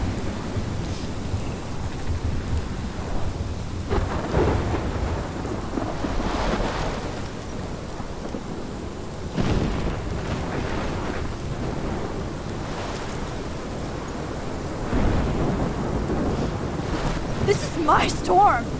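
A thunderstorm in a game, rain hissing steadily under repeated low rolls of thunder and gusts of wind, lasting throughout with several louder surges.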